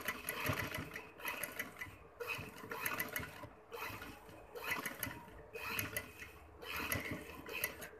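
A sewing machine stitches ring lace in bursts, each run of rapid needle chatter lasting about a second with short pauses between, fairly close and steady in level, with no talking.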